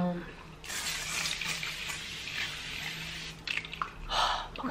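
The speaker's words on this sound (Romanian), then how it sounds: "Băgăm niște apă termală de auriaș să calmăm" Thermal water misted onto the face from a spray can, a soft hissing burst standing out briefly near the end over quiet room noise and faint background sounds.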